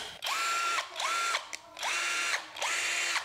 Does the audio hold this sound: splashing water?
no